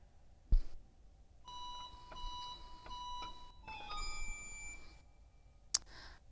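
Pipe organ with 4 foot flute, piccolo and 1 1/3 stops combined, playing high, whistling held notes and quick figures like birdsong, faint, with a couple of sharp clicks around them.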